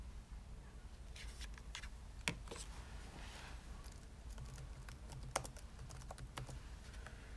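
Keys clack on a Chromebook keyboard as a Wi-Fi password for a mobile hotspot is typed, a steady run of close, light taps with a couple of sharper strikes, alone with no talking.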